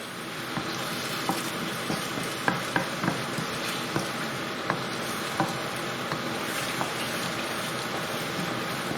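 Chicken rogan josh sizzles steadily in a pan with Coke just added, a continuous frying hiss broken by a few sharp clicks and scrapes of stirring, close and alone with no talk.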